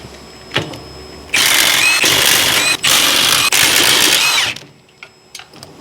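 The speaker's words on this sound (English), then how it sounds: "Now we're going to remove all 4 bolts so we can remove this backing plate and hub. And those bolts are 15 millimeter." Power tool whirring in three long bursts with brief pauses as 15 mm bolts come off the rear axle backing plate of a Chevy Cobalt, loud and close, with quieter clicks before and after.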